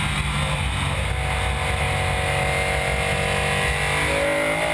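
Race car engine under hard acceleration, loud and continuous, with steady high-revving tone and a shift into second gear as power is fed back on through fast corners on a racetrack.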